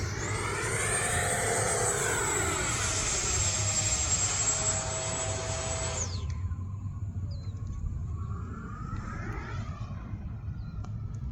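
E-flite 80mm F-16 electric ducted-fan RC jet flying a square loop, a loud whining fan roar that rises in pitch, cuts off sharply midway, then returns softer and more distant as the jet passes.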